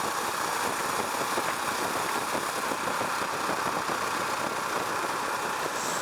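A Husqvarna Vitpilen 701 motorcycle engine drones steadily while riding, a constant loud rumble with wind noise and no break or change in pace.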